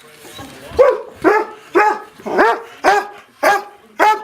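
A dog barks seven times in an even rhythm, close and loud, each bark short and sharp with a brief pause between.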